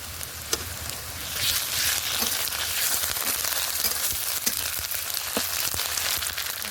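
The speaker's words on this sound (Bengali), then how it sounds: "পেঁয়াজগুলো একটু ভাজা ভাজা হয়ে গেছে, এর মধ্যে দিয়ে দেবো গোটা রসুনের কোয়া" Onion, garlic cloves, slit green chilies and ground ginger fry in oil in a pan, giving a dense, steady crackling sizzle with scattered pops, close and continuous, with no talking.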